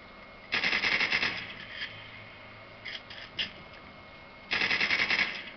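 Two long bursts of rapid automatic fire from a Colt in a third-person video game, near and loud, at the start and end, with a few short single shots between them.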